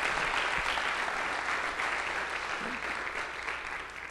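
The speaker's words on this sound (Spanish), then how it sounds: "¿Cuántos aplauden al Señor?" Churchgoers clap together for the Lord in a sustained burst of applause, steady and full, easing slightly toward the end, with faint voices mixed into the crowd noise.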